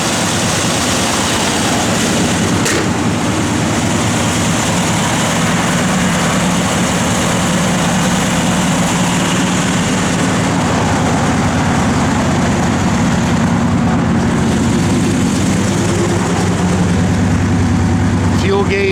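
A 1967 Chevrolet Chevelle SS idles close by with a loud, steady, low rumble that holds even for the whole stretch, while someone talks over it.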